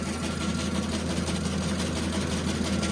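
A 0.75 kW electric motor drives a grain winnowing machine, giving a steady, loud mechanical hum with a constant low drone and even whir that runs unbroken throughout, with no talk over it.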